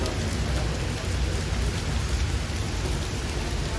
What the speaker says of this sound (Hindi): यहाँ पे तो बहुत बारिश चालू हो गई है